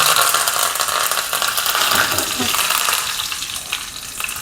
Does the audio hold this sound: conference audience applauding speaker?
no